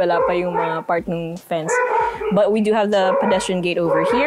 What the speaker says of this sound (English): Excuse the dog who got excited.